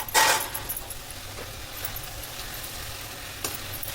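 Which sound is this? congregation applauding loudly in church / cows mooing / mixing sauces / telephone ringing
mixing sauces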